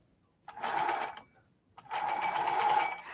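Sewing machine stitching single pleats in fabric, two close bursts of fast, steady mechanical whirring separated by a brief pause, with no talking.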